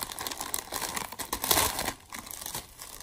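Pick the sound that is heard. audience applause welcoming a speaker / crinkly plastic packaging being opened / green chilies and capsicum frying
crinkly plastic packaging being opened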